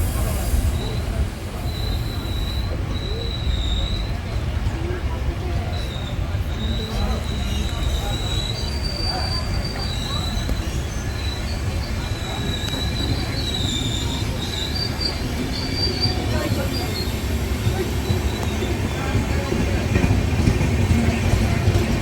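Balurghat to Nabadwip Dham Express, train 13432, runs past with steady rail rumble and repeated high wheel squeals over about twenty seconds, loud and close, with faint voices in the background.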